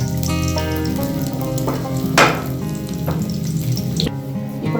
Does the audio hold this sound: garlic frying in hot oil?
yes